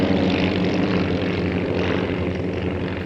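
A propeller aeroplane drones loudly and steadily overhead at a 2010 airshow, its engine a continuous buzzing roar with no break.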